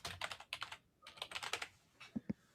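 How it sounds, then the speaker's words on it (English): Clicky computer keyboard typing in quick bursts of sharp keystrokes with short pauses, close and fairly quiet, with no talking. "you've got a clicky keyboard"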